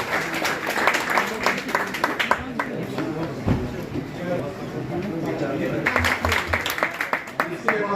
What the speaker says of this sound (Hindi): जोश खरोश के साथ जोरदार तालियों से इसका स्वागत किया जाए।